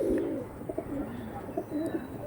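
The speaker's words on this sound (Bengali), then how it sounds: "আরেকটা পাট্টা পায়রা দেখাচ্ছি সেম জেনারেশনেরই পায়রা" Soft, low cooing from Andhra Kalsira pigeons repeats in short warbling phrases, close by, with a quiet background and no talking.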